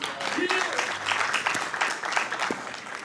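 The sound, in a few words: round of applause at city council meeting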